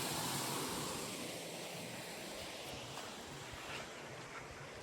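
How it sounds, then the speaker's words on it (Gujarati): Water pouring steadily into a village farm well, heard as a continuous broad rushing wash, faint and distant, blended with wind noise and no speech. "પાણી એટલું પડે છે."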